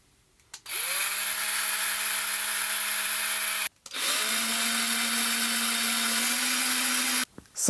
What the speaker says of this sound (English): And then it's going to be time to drill some holes.